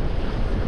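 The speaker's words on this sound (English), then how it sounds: "Way windier over here." Strong wind buffets the microphone on a shoreline during fishing on New Year's Day, a steady low roar with surf-like wash, loud and continuous with no voices.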